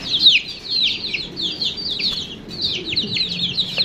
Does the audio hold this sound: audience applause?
no